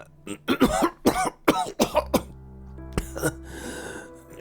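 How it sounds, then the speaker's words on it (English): A fit of harsh, repeated coughing in the video game Arknights, about eight coughs in quick succession, close and loud, then quieter trailing sounds. "Wow, your cough's gotten pretty bad."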